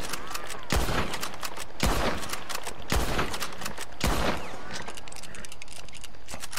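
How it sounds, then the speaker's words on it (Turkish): Bolt-action rifle fired in the online Western game Red Dead Online, four loud, sharp shots spaced about a second apart, each with a short echoing tail, no talking. "Şimdi bir atış testi yapalım."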